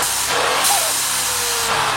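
A Mercedes C63 with a four-cylinder engine accelerates hard, producing a loud, steady, breathy whoosh and hiss like a strained vacuum cleaner, with no voices over it.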